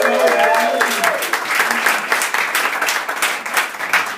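Audience applause at a stand-up comedy show fills the room, dense and steady throughout, starting under a speaking voice that fades out early.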